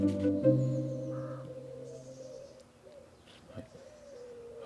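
Young racing pigeons coo in an early-morning loft, soft throaty coos close by with a steady low hum beneath, fading to quieter scattered sounds toward the end.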